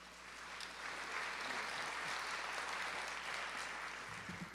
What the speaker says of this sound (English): So please give a nice round of applause to Ryan Patrick Hooper.